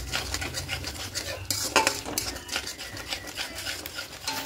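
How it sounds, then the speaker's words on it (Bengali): Spices and ingredients for vegetarian aloo paneer being stir-fried, a utensil scraping and clattering against the pan in steady strokes over a soft sizzle, close and fairly loud throughout. "এবার সব কিছু দিয়ে খুব ভালো করে কষিয়ে নেব।"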